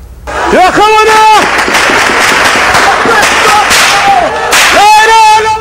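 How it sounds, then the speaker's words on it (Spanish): Sharp gunshots burst in rapid irregular volleys during a street crackdown on opposition protesters, amid shouting crowd voices, loud and chaotic outdoors. "pese a los disparos, varios opositores tratan de ayudar a un hombre y a una mujer"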